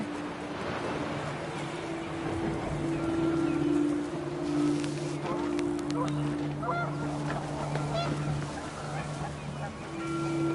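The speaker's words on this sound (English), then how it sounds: "The wind picked up, and panicked geese appeared and quickly went." Panicked geese honk repeatedly in the What Remains of Edith Finch video game, with layered calls over gusting wind and a wash of surf, fairly close and continuous.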